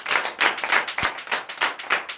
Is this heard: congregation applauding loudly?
yes